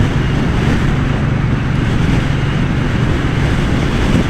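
A 2024 MBP C1002V with a 1-litre V-twin engine cruises along the highway. A steady low engine drone runs under loud, continuous wind roar for the whole stretch, with no breaks or pauses.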